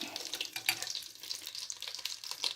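Butter sizzles in a pan, without oil, before chicken escalopes go in, a close, soft, crackling hiss with small irregular pops throughout.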